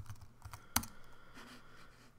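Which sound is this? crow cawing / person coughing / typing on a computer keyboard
typing on a computer keyboard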